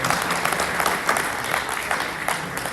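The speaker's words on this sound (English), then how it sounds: "huge extra round of applause," Steady audience applause at a Rotary speech competition, dense continuous clapping from a crowd filling the room, fairly loud and close with no talking over it.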